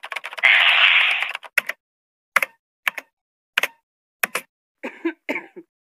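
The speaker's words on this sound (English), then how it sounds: "Use that keyboard." Keyboard typing in a horror adventure video game: a burst of hiss, then a sparse series of single sharp key clacks spaced out, ending in a short quick flurry.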